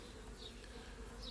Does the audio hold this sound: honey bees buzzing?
yes